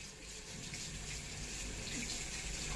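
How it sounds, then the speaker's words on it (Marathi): Steady water running from a tap, a continuous hiss at moderate level with no pauses throughout. "कर बंद नळ. नळ बंद कर."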